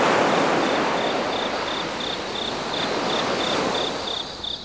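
Incoming tide washes onto Kenting beach at night in a steady broad hiss of surf. A regular chirping insect pulses over the waves throughout.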